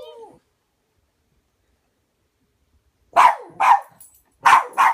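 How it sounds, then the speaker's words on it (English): A dog barks several times in short, sharp bursts, close and loud, after a brief faint sound and a stretch of silence. "she's barking at the squirrels"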